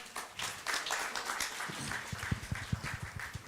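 Audience applause welcoming Dr. Satish Jain at an ENT surgical workshop in Nandyal, a steady wash of claps from a room of attendees running through the moment with a few sharper individual claps standing out near the end.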